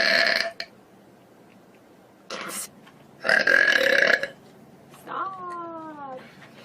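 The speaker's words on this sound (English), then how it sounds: "I'm sorry, I'm gassy." A female streamer burps loudly several times, with short rough bursts separated by quiet gaps, followed by a brief vocalized sound near the end.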